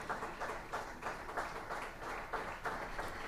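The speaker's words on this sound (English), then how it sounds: "A big round of applause," Audience clapping at a presentation ceremony, a steady round of applause with rhythmic bursts of hand claps at moderate distance, continuing throughout without voices.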